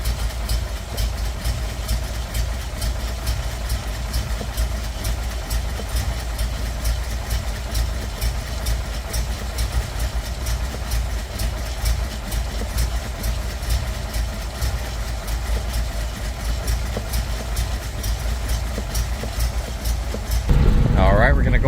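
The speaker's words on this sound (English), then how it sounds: "So this is a cold start." A stock 1971 Datsun 280Z engine cold starts and settles into a steady, loud idle that runs continuously near the microphone, with a brief louder surge at the very end.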